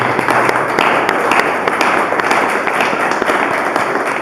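A church congregation applauds loudly and continuously, a dense wash of many hands clapping together at close range, with sharper individual claps scattered through the steady noise.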